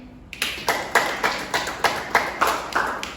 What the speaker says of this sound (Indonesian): Untuk anak-anak Ibu beri aplaus untuk teman-temannya